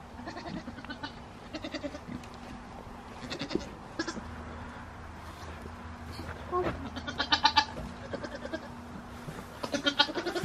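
Goats bleat repeatedly in short, wavering cries over a steady low hum, some calls close and others farther off.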